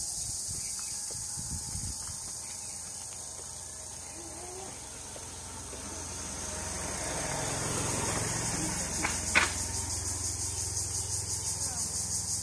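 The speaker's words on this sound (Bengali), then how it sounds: "এই ঝিঝি পুকুরা দিনের বেলায় এত শব্দ করে" Crickets chirp loudly in daytime beside village ponds, a dense, high, continuous shrill drone that never pauses, with a faint low rumble of distant traffic swelling beneath it.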